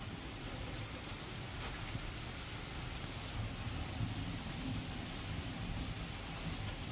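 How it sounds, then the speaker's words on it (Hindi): Heavy rain falls steadily in a faint, even hiss with no break, and no voices are heard over it. "आज सुबह सुबह यहाँ पे बहुत भयंकर बारिश आ रही है।"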